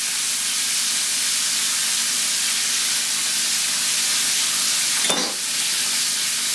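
Onions sizzle and fry steadily in a hot pan while cooking quail, a loud constant hiss with one brief sharper burst partway through, no voices over it.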